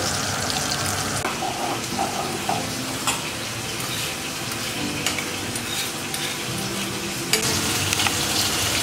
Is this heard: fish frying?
yes